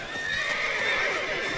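Roach, Geralt's horse in the video game The Witcher 3: Wild Hunt, gives a brief neigh as it gallops, set against a steady layer of game sound with no voices.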